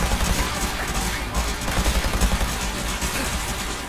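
Gunfire from the video game Fallout 4 comes as a loud, dense burst of rapid shots and crashing impacts filling the moment, with no talking.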